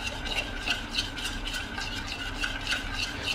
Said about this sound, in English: just to mix it equally, to make sure no chunks of butter here